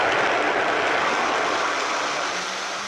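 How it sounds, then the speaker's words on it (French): A blender mixing almonds for homemade almond milk, a loud, dense, steady whirring roar that holds throughout and eases off slightly toward the end, with no voices. "je commence tout doucement et puis j'accélère"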